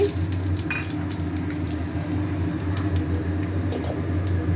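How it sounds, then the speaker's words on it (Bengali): Panch phoron, a Bengali five-spice mix, tempering in hot oil while pumpkin fries, giving a steady close sizzle with faint crackles over a constant low hum, no voices. "পাঁচ ফোড়ন দিচ্ছি"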